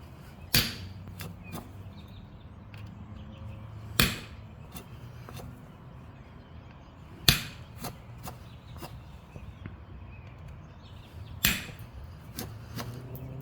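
Flint knapping on a stone dagger preform, small half-inch flakes struck off one at a time: four sharp clicking strikes spaced a few seconds apart, each with fainter ticks after it, close and alone over quiet rustling.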